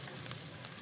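Chicken sizzling in a hot pan while being stirred, a brief dense hiss of frying heard close and steady.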